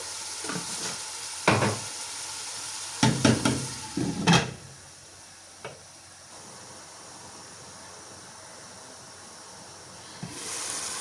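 Chicken, noodles, vegetables, masala and salt sauté in a pan, with close stirring scrapes and clatters coming in bursts over a low, continuous sizzle.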